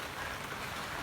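Heavy rain pours steadily at a college canteen, a dense, even wash of drops on surfaces close by with no voices.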